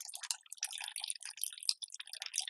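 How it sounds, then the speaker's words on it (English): Water draining out of a siphoning cup as it empties, a faint, close trickle with light drips and splashes running throughout. "It's all pouring out now."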